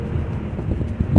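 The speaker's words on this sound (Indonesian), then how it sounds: "angin kencang," Strong coastal wind of 15 to 20 knots buffeting the microphone on a stormy shore, a steady loud rumbling gust with a few harder bumps, no voices.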